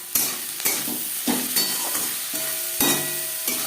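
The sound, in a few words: onions frying in a pan with turmeric and salt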